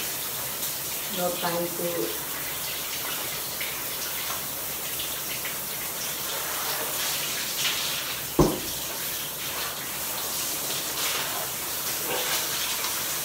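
A running shower sprays steadily with a broad, continuous hiss of water close by, one sharp knock partway through, and a voice speaking briefly over the flow.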